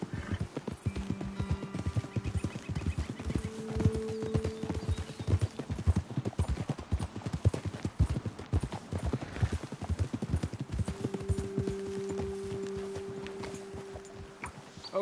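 Horse hooves clip-clop steadily and close in a PS4 video game, a dense rhythmic run with occasional whinnies and soft game music tones in the background, no talking.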